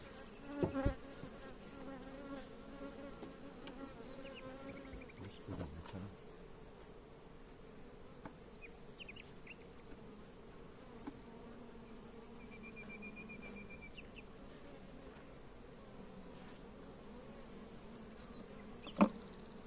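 Honey bees buzzing during a beehive transfer, a steady swarm hum filling the whole stretch with individual bees whining close by and occasional knocks of hive handling.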